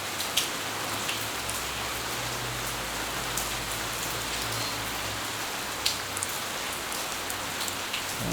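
Steady rain in the dystopian survival crafting game City 20, a continuous soft patter and hiss of drops landing on surfaces, with a couple of faint sharper taps and no voices.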